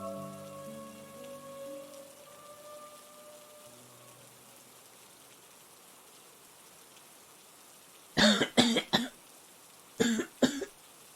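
Coughing fits in a horror radio drama: two separate bursts of harsh coughs near the end, close and loud, following a quiet stretch of soft rain-like hiss and fading music.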